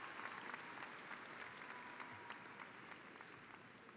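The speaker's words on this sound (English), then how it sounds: "please give a huge round of applause to your families, your friends, your mentors, and faculty who have been by your side" Sustained applause from a large commencement crowd honoring graduates' families, friends, mentors and faculty, a dense, even wash of clapping heard at a distance, fairly quiet throughout.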